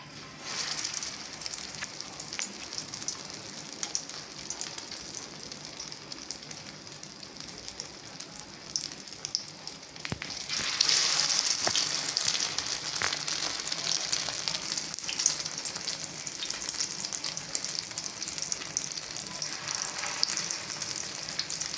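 Egg-dipped chicken shami kebabs fry in hot oil with a continuous crackling sizzle. It grows louder and fuller about halfway through as more patties go into the pan.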